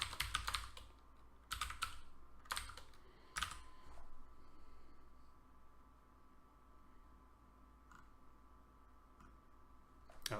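Bursts of computer keyboard typing during a Go programming session for an RPG game, loud clusters of keystrokes early on, then sparse, faint clicks over a steady background hiss.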